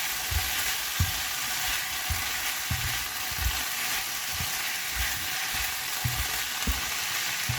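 Pak choy, spring onions, coriander and parsley stir-frying in a hot pan: steady close sizzle and crackle with irregular soft knocks and scrapes as the greens are tossed, no voices.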